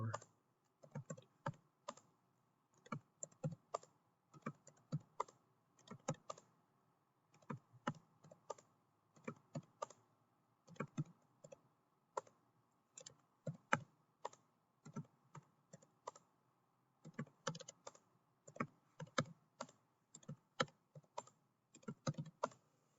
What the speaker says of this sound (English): Okay, so I type in all the data.